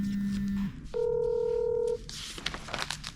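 Telephone keypad tones as a number is dialed for a phone interview: a low steady tone, then a brief pause and a bright, loud, sustained dual tone, followed by faint clicks and rustle.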